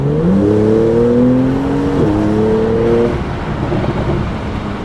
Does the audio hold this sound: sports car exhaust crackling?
yes